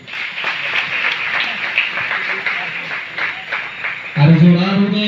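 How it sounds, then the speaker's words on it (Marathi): An audience at a hypnotism comedy show applauds in a brief, scattered burst of clapping under a man's speech. "त्यांच्यासाठी जोरदार टाळ्या होते."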